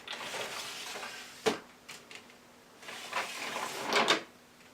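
A makeup storage drawer slides and thumps, with a sharp knock followed by softer scraping and rattling of items inside, close and alone without talk.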